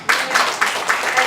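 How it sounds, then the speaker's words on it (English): Conference audience clapping, a short burst of dense applause with rhythmic peaks, fairly close and moderately loud, with no speech over it. "Let's say a big applause for that."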